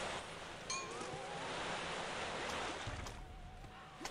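Rushing, noisy wash of a waterfall in the Psychonauts game, a broad steady roar lasting several seconds with faint tonal chimes and low thumps mixed in, no voices.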